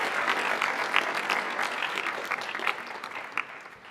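An audience claps for the graduating class of 2023 at a school district graduation ceremony, a steady wash of mixed handclaps filling a large space, with a few louder claps standing out near the front.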